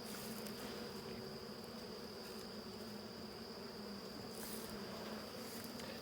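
Honeybees hum steadily around an open starter hive, a dense continuous buzz close by with no talking.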